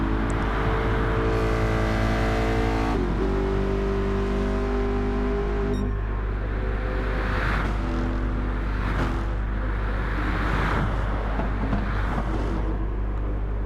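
Race cars in the Gran Turismo 7 driving game at Bathurst during a one-hour endurance race, with steady loud engine drone, shifting gear tones and cars passing, continuous throughout.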